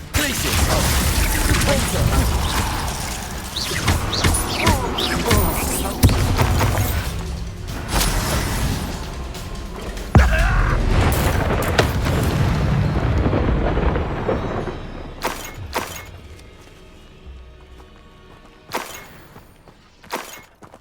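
Loud, dense magical blast from the Confringo fire spell in Hogwarts Legacy, a roaring explosive burst that rumbles and crackles for several seconds before thinning out into scattered sharp hits and quieter tails, with a voice heard amid the noise.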